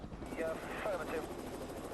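A police helicopter tracks a car chase, its rotor thrum a steady mid-level drone overhead, with faint voices over the radio riding on top.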